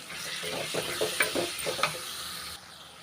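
Tomatoes with ginger garlic paste sauté in a pan, crackling and hissing under several short stirring scrapes before the sizzle drops off abruptly near the end.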